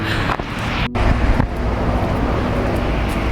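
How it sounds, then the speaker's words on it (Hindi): Heavy traffic on a main road roars in a continuous, close wash of passing vehicles and road noise, with brief gusts of wind on the microphone and no speech. "पीछे से ट्रैफिक का बहुत शोर आ रहा है"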